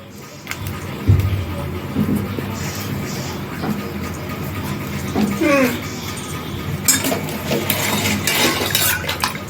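A spoon clinks and scrapes while stirring powdered sugar and jaljeera into a sherbet drink, with intermittent light tapping and swirling, partly under a speaking voice.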